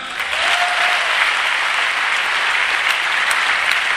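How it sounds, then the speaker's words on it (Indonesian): Dense, steady audience applause fills a live concert hall in Singapore during the band's crew introductions, loud and continuous from start to finish with no one speaking over it. "tepukan."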